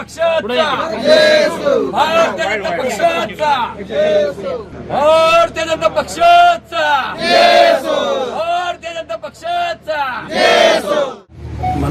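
Supporters of Subhash Deshmukh and the Mahayuti alliance cheer loudly at an election victory celebration in South Solapur, a dense crowd of shouts and chants running continuously with voices calling out over the roar.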